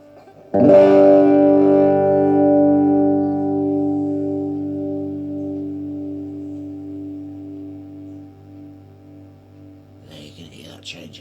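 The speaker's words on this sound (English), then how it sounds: "The way I do it is I set it in phaser mode." A Whirly Bird guitar pedal in phaser mode, sped up, colours a single strummed electric guitar chord that rings out and slowly decays with a sweeping, swirling tone, followed by a brief bit of talk at the end.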